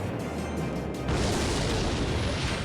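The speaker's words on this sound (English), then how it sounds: "Just keep throwing rockets." A rocket spell in the card game Clash Royale lands with a sudden loud boom that swells into a sustained roaring rumble over the game's background sounds.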